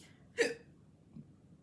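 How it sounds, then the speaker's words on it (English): A person burps once, a brief, close gulping burst followed by a much fainter second sound, in an otherwise quiet room with no speech. "Damn, burping."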